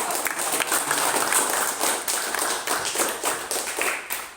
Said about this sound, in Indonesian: Kita tepuk tangan lagi untuk semuanya karena telah aktif.